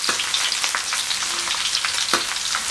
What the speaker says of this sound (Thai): ใช้ไฟกลางน้ำมันร้อนลงไปเจียวคนบ่อยๆนะครับ